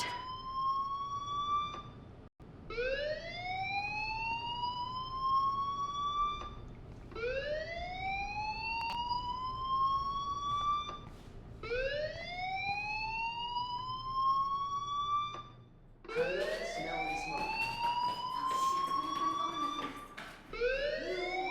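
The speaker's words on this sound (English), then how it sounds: "do you hear that fire alarm? That means you should be outside." A school fire alarm from the video game Life is Strange sounds in four loud, repeated rising electronic whoops, each sweeping upward for a few seconds with a brief gap between, the last one denser and slightly overlapping.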